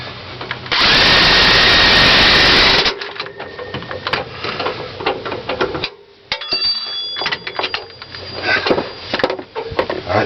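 An impact wrench rattles loudly in one sustained burst on a shock absorber bolt of a 2003 GMC Sierra, followed by clanks and handling of tools and parts in a garage.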